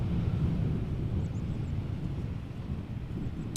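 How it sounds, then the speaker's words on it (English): An EasyJet airliner lands at a windy airport in a crosswind, heard as a low, steady, fairly faint rumble behind gusty wind noise. "we are going to see the behind of this EasyJet quite well"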